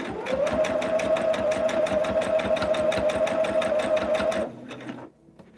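Sewing machine stitching a quilt with a worn needle, a fast steady mechanical whir with rapid rhythmic needle clatter running close and loud for several seconds before stopping abruptly.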